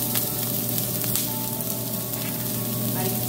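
Diced turkey smoked sausage sizzles in a hot pan, a steady close frying crackle and hiss with scattered pops throughout, no talking.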